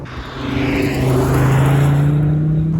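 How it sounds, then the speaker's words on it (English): A steady, deep engine and sports exhaust drone from an Audi RS3, loud and close, holding a low rumbling tone without any talking. "the exhaust note isn't too loud even on the sports exhaust."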